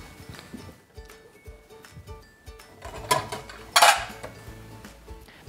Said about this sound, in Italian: Allora prendo i piatti.